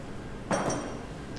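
A surgical hammer strikes a femoral chamfer block (size 5) during primary total knee replacement instrumentation, one sharp metallic knock with a quick second ring, over a soft steady background hiss.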